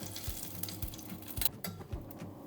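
A bay leaf hits hot ghee and oil in a pan for a spinach and soya chunk curry, giving a close, soft sizzle with light clinks and stirring scrapes and no voices.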